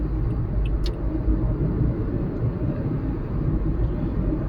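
A car drives along a busy highway in the UAE, a steady, loud low road rumble and engine drone filling the cabin throughout with no break.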